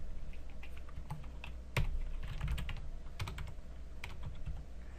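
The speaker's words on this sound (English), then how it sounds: "Pardon my typing here." Close, steady typing on a computer keyboard, with quick irregular key clicks and a few sharper taps standing out, heard alone with no talking.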